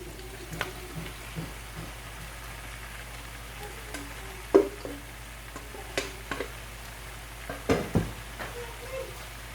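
Protein stirred into Cameroonian eru in a pan gives a soft, steady sizzle with intermittent scraping and clunks of a spoon against the pot, fairly quiet with a few louder knocks.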